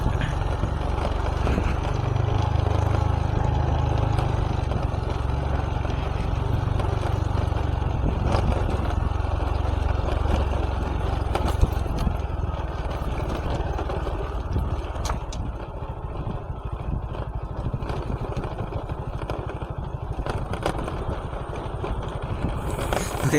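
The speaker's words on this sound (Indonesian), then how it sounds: "sepanjang jalan ini suara kemelotak itu bukan dari mesinnya ya teman-teman" A Honda Supra X 125 FI with a newly replaced piston keeps a low, steady engine drone while riding along a road. A loose headlight casing adds scattered rattling clicks over the engine the whole way. No one speaks.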